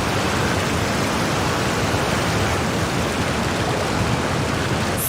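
Waterfall in the video game Genshin Impact pours in a steady, loud, unbroken roar of rushing water that fills the whole stretch.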